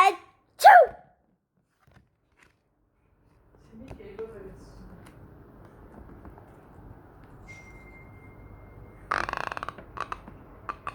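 A single sharp human sneeze bursts out right at the start, followed by silence and then a low rumbling background with faint clatter and brief noise bursts.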